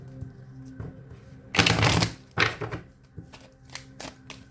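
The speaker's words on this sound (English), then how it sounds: "I'm going to shuffle again." Tarot cards are shuffled by hand close up, with a dense riffle burst, then several shorter crisp flutters and taps over a steady low hum.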